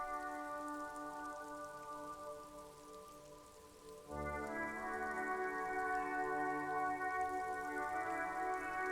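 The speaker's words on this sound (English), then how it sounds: "Rain falls down on the world." Steady rain in the Disco Elysium game pours in a dense, even patter, with a sustained tonal drone underneath that grows louder partway through.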